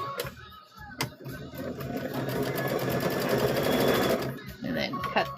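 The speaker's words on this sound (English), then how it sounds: "let's go ahead and sew these other 2 corners" Rapid mechanical stitching from a sewing machine sewing the corners of a quilt block, running in a steady loud burst that swells and then stops, with short starts around it and a voice talking nearby.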